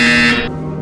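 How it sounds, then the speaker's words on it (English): Buzzer in the Portal Stories VR game, a short loud harsh electronic buzz lasting under half a second and then cutting off to a fading tone. "You will hear a buzzer."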